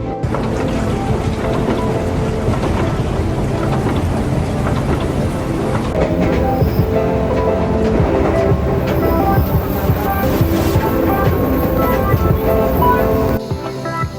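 Continuous rumbling roar of a commuter train running on rails in Jakarta, with rhythmic clatter and a dense, loud wash of noise throughout.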